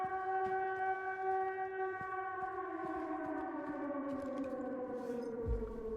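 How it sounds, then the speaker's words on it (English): Air raid siren in the Silent Hill 2 Remake video game, a long wailing multi-tone drone that slowly slides downward in pitch, steady and moderately loud over a low rumbling rhythmic background, with no talking. "I've always liked the air raid air raid siren. It's such a scary sound."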